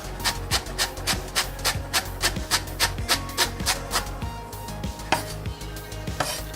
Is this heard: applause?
no